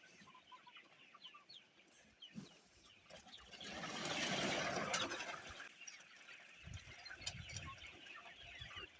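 Chickens and chicks on a village farm in Shamakhi give soft, scattered clucks and chirps, with a louder burst of mixed farmyard activity in the middle and dull bumps near the end.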